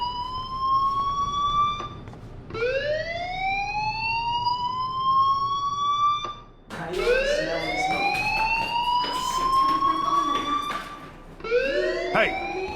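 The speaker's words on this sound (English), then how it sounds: "do you hear that fire alarm?" A fire alarm in the video game Life is Strange wails in repeated rising sweeps, loud and continuous, with short pauses between cycles and no talk.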